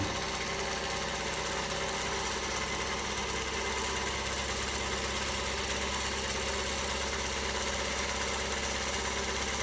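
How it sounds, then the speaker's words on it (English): A March 1955 Singer Featherweight sewing machine runs steadily at moderate speed, its motor hum and rapid needle clatter forming a continuous, even mechanical drone with no talk. "Actually, it's sewing really well."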